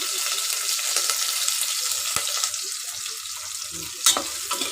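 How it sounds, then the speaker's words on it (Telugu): Fenugreek, mustard seeds, onion and curry leaves frying in oil for idli sambar, a steady close sizzle with a few sharp crackles and pops near the end. "కొద్దిగా మెంతులు ఆవాలన్నీ వేగుతున్నాయండి ఎర్రగడ్డ కరివేపాకు వేసుకున్నాను"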